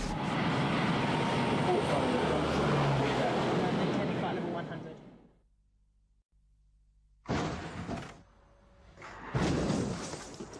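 An aircraft comes in to land with a loud, broad roar that fades out over several seconds, followed by quiet and then a couple of short, rushing bursts.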